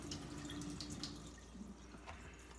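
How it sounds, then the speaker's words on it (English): Water poured from a tabletop river-stone fountain into a sink makes a faint, steady trickle and light splashing throughout the short stretch. "put it next to the sink, put your hand on top and pour it all out"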